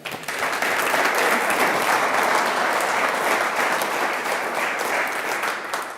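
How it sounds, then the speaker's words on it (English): Audience applause fills a hall at the 6th International NEXT Facade Summit, a dense, steady wash of many hands clapping at once that holds at full strength for several seconds with no voices on top. "let's give a big round of applause for all of you for being here on time"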